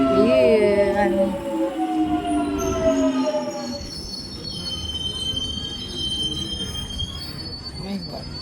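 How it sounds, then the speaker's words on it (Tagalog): A train pulls into Stratford station with loud, high metallic wheel squeals that slide and waver over a rumbling rail bed, fading into lighter screeches and clatter as it slows, with faint voices nearby. "My first train is here."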